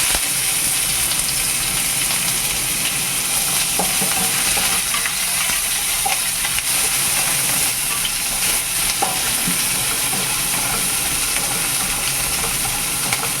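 Continuous sizzling and frying hiss of chopped large onions sautéing in a hot pan for semiya kichadi, with occasional stirring scrapes, steady and close with no talking.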